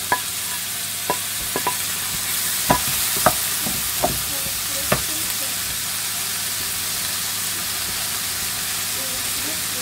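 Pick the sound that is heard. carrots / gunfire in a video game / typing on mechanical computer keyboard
carrots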